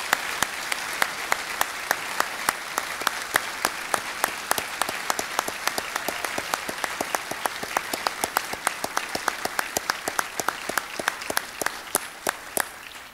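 A ceremony audience applauds employees and Sailors of the Year at a Bremerton naval event, steady sustained clapping from a large room, with a few sharp close claps standing out over the crowd.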